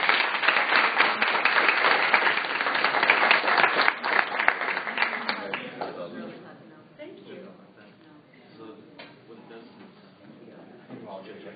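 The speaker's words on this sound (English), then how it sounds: "give a round of applause for all the panelists" Audience applause for conference panelists at a live event, loud and dense for about five seconds before thinning out into scattered claps and murmured conversation.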